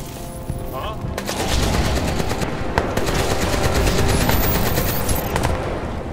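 Sustained automatic gunfire rattles nonstop in the video game Crysis 2: dense, loud machine-gun bursts layered together with sharp individual shots cracking through, like a heavy firefight at close range.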